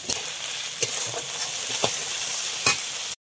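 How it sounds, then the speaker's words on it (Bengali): Ground cumin and coriander spice paste fries in a pan with a steady bright sizzle, broken by a few scraping strokes of a spatula, close and continuous without talk. "একটু জল দিয়ে কষিয়ে নেব মশলাটা।"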